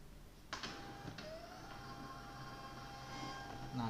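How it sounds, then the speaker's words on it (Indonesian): A Wincode thermal label printer feeds out a 100x150 Tokopedia shipping label, giving a steady close mechanical whir with a sharp click at the start and another shortly after, running continuously to the end. "Kita langsung tekan print."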